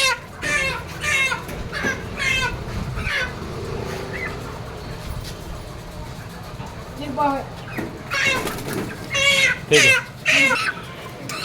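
Live chickens at a poultry market cluck and call in short bursts, mixed with nearby voices talking and general market bustle.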